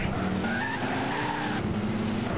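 Race car braking hard in a racing video game, a continuous loud tire skid and squeal over steady engine roar, sustained and close for a couple of seconds without a break.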